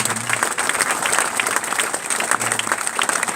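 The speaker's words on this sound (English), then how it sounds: "So Andy Meredith and his staff, need a big round of applause" At a Belle Vue Aces speedway press conference, a room of people gives the track staff a warm round of applause, a steady, fairly loud patter of clapping that runs without pause from start to finish.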